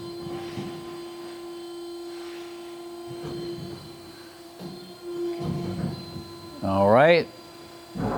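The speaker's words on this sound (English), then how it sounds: "right now he's running the blade. Blade's very quiet, it's variable, up to 400 feet per minute" A Kalamazoo VG 450L tilt-frame vertical band saw runs its variable-speed blade, a quiet, steady mechanical hum held throughout while people talk nearby.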